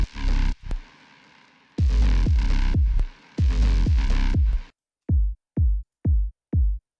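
A layered electronic bass patch called acid stomper, made with a sub and bass, plays a few heavy, throbbing sustained hits. It then drops to a run of short, punchy, evenly spaced bass stabs with silence between them.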